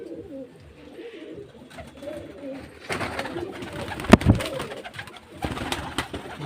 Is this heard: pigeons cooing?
yes